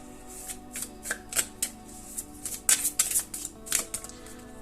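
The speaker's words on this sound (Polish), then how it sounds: "I jeszcze raz sobie przetasujemy te karty i zaczynamy." A deck of tarot cards being shuffled close up, with repeated riffling bursts and soft flicks that come in uneven clusters over a faint steady hum. No one speaks.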